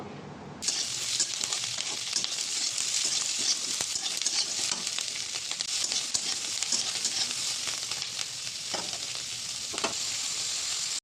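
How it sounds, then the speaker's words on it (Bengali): Chopped capsicum and onion hit a hot pan and sizzle loudly and steadily for the rest of the stretch, with occasional soft scrapes and clicks of stirring. The pan is close and no one speaks. "আর এখানে পেঁয়াজ কেটে রেখেছিলাম, দুটো একসাথে দিয়ে ভালোভাবে ভেজে নেব"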